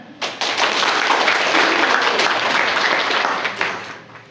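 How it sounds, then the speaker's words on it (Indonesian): An indoor audience at a university ceremony for the visit of Indonesia's deputy minister of higher education, science and technology breaks into loud, steady applause that swells quickly, holds for a few seconds, then tapers off. "Tepuk tangan."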